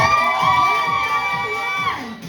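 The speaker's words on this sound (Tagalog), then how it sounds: "sino naman ang papalakpak para sa Team Sex Boys?" Children shout and cheer loudly together for a team at a surprise birthday party, a bright sustained burst of young voices that fades at the end.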